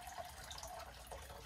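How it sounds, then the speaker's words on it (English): Water runs steadily from a tap into a crock pot used for melting wax, a faint, continuous trickling pour with no talking. "I'm gonna fill it up with some water here"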